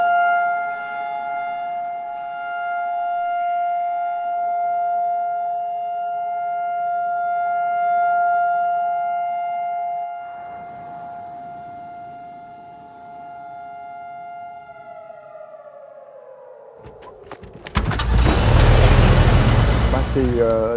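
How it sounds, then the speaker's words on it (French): Long, steady wailing Holocaust memorial air raid siren in Tel Aviv holding a sustained tone, then winding down, followed by a burst of loud broadband noise. "c'est une sirène de commémoration de la Shoah"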